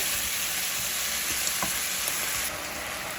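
Diced tomatoes being stirred into a cooked mixture in a pan, giving a steady close sizzle and frying hiss with a few soft scrapes of the utensil.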